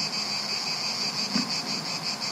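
Cicadas sing in a dense, continuous high-pitched buzzing drone with a faintly pulsing texture, steady and fairly close, with no voices.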